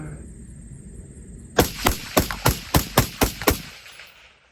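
A paintball marker fires eight sharp shots in an even, quick rhythm outdoors, each a crisp pop with a short tail, after a quiet stretch with a faint high whine.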